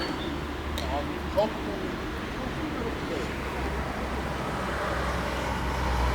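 An electric car fitted with an extender battery drives along a road, giving a steady low road and motor hum that builds slightly toward the end while someone talks over it.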